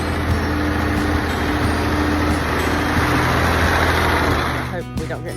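A farm tractor engine idles up close with a loud, steady low rumble that holds for several seconds before shifting near the end, with a voice talking over it.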